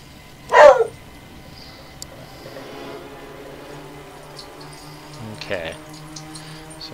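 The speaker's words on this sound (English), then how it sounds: "God, the dogs!" A neighbors' dog barks sharply once nearby, then yips and whimpers more faintly a few seconds later, over a low background hum with some talking.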